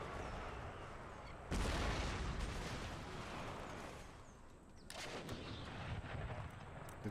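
Musket volleys and artillery fire from an Empire: Total War battle with Prussian forces, played with the Imperial Destroyer mod: a sudden heavy salvo erupts and rolls on with a crackling, booming din, then a second burst of shots follows a few seconds later.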